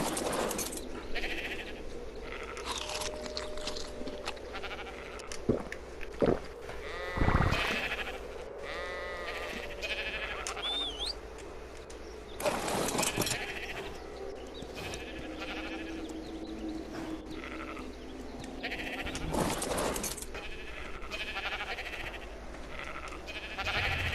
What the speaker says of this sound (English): sheep are going to be bouncing around like this right here